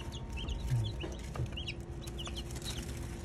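Baby chicks from a DIY incubator peep and cheep softly in high, scattered bursts, with a low farmyard rumble and occasional clucks beneath as they are moved.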